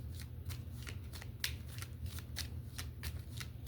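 A deck of cards is shuffled by hand in quick, crisp riffling bursts that repeat about every half second, close and fairly quiet over a low steady background hum, with no talking.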